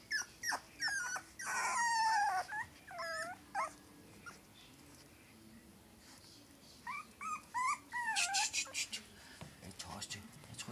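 Dogs outdoors at night whimper, yip and growl in repeated short bursts close to the microphone, with quiet gaps between vocal clusters.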